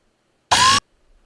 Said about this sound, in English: the mech bot and the spider bot each have an alert sound.